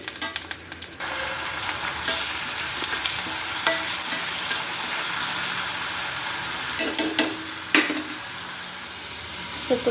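Soaked moong dal sizzles and crackles steadily in a hot-oil tempering, with occasional clinks and scrapes of a spoon against the pan.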